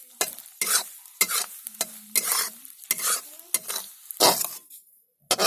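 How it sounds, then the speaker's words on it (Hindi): Sethura laddoo ingredients fry in ghee with a repeated stirring scrape, as a spoon strikes and rakes the pan in short bursts over a soft, steady sizzle, close and fairly loud with pauses between strokes. "इसे भी घी में थोड़ा फ्राई करना है।"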